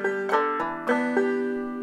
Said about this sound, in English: So that entire measure, this is measure one, sounds like this.